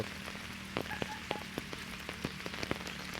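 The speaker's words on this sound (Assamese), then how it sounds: "বৰষুণ দি আছে, ভিডিঅ' কৰিবলৈ অসুবিধা হ'ব" Rain falls steadily over a tea garden in Dibrugarh during flooding, a constant wash with scattered sharp drop ticks and splats close by.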